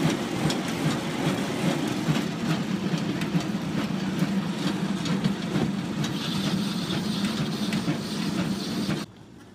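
A motorized rail bike with a salvaged motor runs along Danish railway tracks on Funen, a loud steady engine drone with wheel rattle that cuts off sharply near the end.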